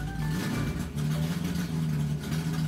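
A truck engine in a preschool learning program hums with a steady low rumble as the vehicle approaches, holding a fairly even level throughout.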